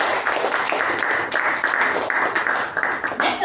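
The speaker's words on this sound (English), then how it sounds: "So let us give a huge round of applause for Toastmaster Raja and Toastmaster Anirudh" A Toastmasters meeting audience claps in a steady round of applause that runs throughout, at moderate loudness, with no talk over it.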